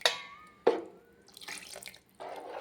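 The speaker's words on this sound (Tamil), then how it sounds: "தண்ணி பத்தாது, கொஞ்சம் கூடுதலாக ஊற்றிக்கலாம்." Water poured from a tap or jug into a pot of okra curry, heard as a few short bursts of splashing and trickling with brief pauses between them, close by and with no talk.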